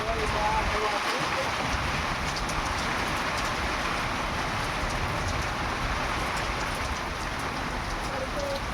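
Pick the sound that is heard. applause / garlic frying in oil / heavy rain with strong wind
heavy rain with strong wind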